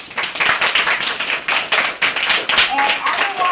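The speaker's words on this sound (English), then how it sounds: "Give yourselves one more round of applause." Scattered hands clap in uneven bursts, a small group's applause with some voices mixed in underneath.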